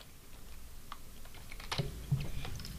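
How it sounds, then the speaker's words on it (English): Typing on a computer keyboard, a quick run of light key clicks that grows a little busier toward the end, close but quiet, with no talk. "I'm going to type in a name for my FTP account"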